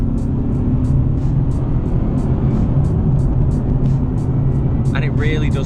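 A 2012 Nissan 370Z accelerates hard with a loud, sustained engine drone and deep rumble from inside the cabin, steady throughout, with a voice briefly heard at the end.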